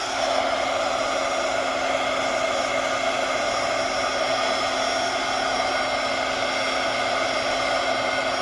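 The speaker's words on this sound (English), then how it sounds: "heat gun again for a few seconds" A heat gun blows hot air in a constant, loud, even roar that holds steady throughout with no break.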